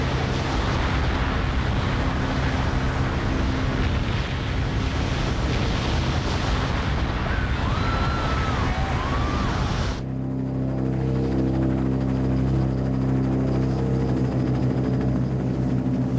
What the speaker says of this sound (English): The South Tower burned for 56 minutes before it fell